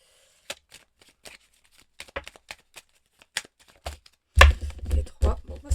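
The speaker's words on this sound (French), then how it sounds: "Une carte qui tombe, deux cartes qui tombent." Tarot cards shuffled and drawn by hand, a run of crisp separate flicks and taps followed by a louder, denser burst of riffling near the end, close and alone.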